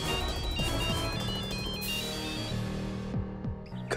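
A telephone rings with a repeating electronic melodic ringtone, steady and fairly loud, continuing throughout.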